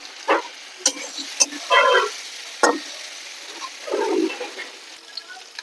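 Fried fish heads drop into a pan of potatoes sizzling in oil for a Bengali muri ghonto, with sharp clatters of placement and bursts of frying hiss between quieter stretches.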